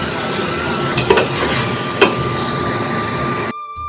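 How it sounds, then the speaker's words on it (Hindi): Potatoes fry in a pan with tomato paste, green chili and garlic, giving a loud, close, continuous sizzle with a couple of sharp scraping stirs before the sound cuts off abruptly near the end. "आलू को तकरीबन 3-4 मिनट भुनाई करेंगे"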